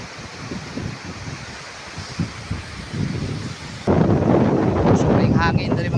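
Wind blows by the sea at Zambuanguita, a rough low roar that buffets the microphone and grows stronger partway through, with someone talking over it.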